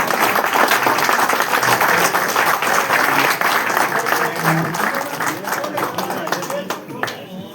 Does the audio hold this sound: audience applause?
yes